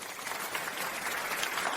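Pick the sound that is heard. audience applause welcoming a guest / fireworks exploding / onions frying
audience applause welcoming a guest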